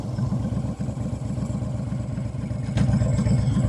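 A Honda Sabre 1300 cruiser motorcycle pulls hard under load, its engine throbbing in a dense, steady low pulse, close and loud with wind noise and no talk.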